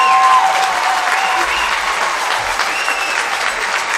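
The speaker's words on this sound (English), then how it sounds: "Let's give both of these teams a round of applause." A crowd applauds both teams after a nine-inning Division 6 state championship softball game between Danville and West Jefferson. The clapping is sustained, even and fairly loud, with faint voices mixed in.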